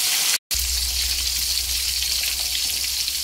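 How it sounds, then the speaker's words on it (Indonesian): Tilapia fillets dusted with a little wheat flour fry in hot oil, giving a steady close sizzle with a brief cut to silence near the start, then continuous crackling without talk. "terus kita goreng ikannya ini itu biar nggak meletup-meletup ketika digoreng"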